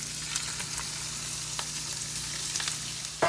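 Shrimp fry on a Blackstone griddle with a dense, even sizzle close by and a few faint scrapes and clicks, with no talking.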